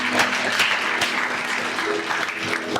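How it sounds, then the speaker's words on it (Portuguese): Church congregation clapping during a sermon, a continuous loud wash of many hands applauding with a faint tonal hum underneath. "Você pode aplaudir o Senhor?"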